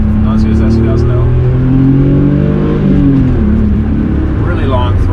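A BMW E36 M3 engine on track rises and falls in pitch through a heel-toe downshift, a loud, close in-cabin drone with a quick blip, while someone talks over it.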